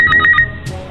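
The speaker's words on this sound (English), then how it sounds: "Myna bird." A myna bird gives a bright whistled call of three or four quick, shrill pulses, close and loud, followed by a short rougher note.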